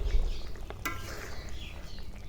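A beaten egg hits a hot pan already holding fried cumin powder, giving a sharp splash that settles into a steady, moderate sizzle, close by with no talking.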